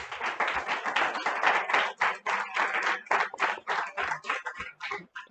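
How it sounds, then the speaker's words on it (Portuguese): An audience at a live xaxado history seminar claps, a lively burst of distinct, fairly close hand claps with an irregular rhythm that swells and dips over several seconds. "Gente, eu amei essas palmas."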